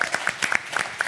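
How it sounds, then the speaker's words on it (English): Applause from an audience at a live community finance forum, a brief burst of scattered, crisp claps that rises and falls over about a second, moderately loud with no one talking over it. "another round of applause for JP Morgan Chase"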